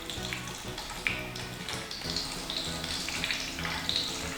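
Pechay cabbage rolls fry in oil with a steady, close sizzle and crackle that never lets up, a faint low hum running beneath.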